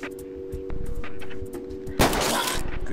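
Gunfire in the UFO Alien Invasion video game: a sharp shot bursts out loud near the two-second mark, with a broad crackling tail, over a steady synthetic hum and faint background game noise.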